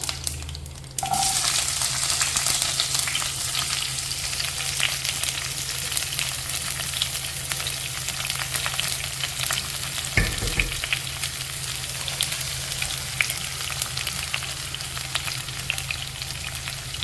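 Small onions frying in hot oil just after mustard seeds have popped, with a steady, loud, close sizzle that runs unbroken and alone, with no voices.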